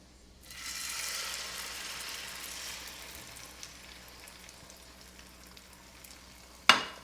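Omelette mixture hits hot oil and sizzles steadily, a bright frying hiss that swells quickly then slowly settles, ending with a sharp clink near the close.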